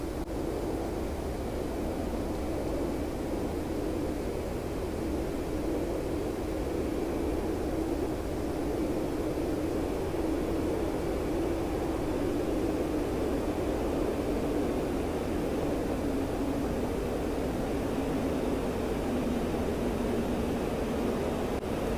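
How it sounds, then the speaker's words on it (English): A fighter jet in DCS World accelerates on afterburner with a constant, heavy roar that builds slightly and holds for over twenty seconds, loud and alone. "Wait for the burners. Special afterburner mode on."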